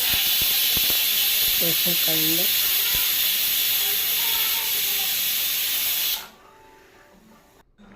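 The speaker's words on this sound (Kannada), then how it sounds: "ಒಂದು ಕಡೆ ಕುಕ್ಕರ್ ಸಿಟಿ ಆಗ್ತೈತೆ ನೋಡ್ರಿ" A pressure cooker on a home kitchen stove vents with a long, loud, steady steam hiss for about six seconds before dropping away, while someone speaks briefly over it.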